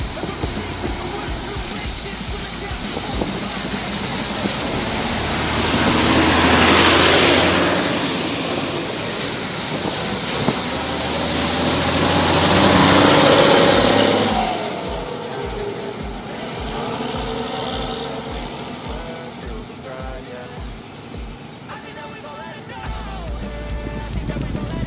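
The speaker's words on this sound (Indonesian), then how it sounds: "bus Makmur dan bus Intra bersama-sama masuk ke terminal Pekanbaru" Two intercity buses, a Makmur and an Intra, roll into Pekanbaru terminal together; loud engine rumble and tyre noise swell twice as each passes close, then settle into a lower idle with traffic ambience.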